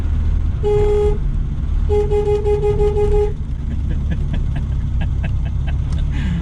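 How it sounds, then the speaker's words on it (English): A three-wheeler car's horn toots loudly and close, one short honk and then a longer one, followed by faint clicking inside the cabin. "What does the horn sound like?"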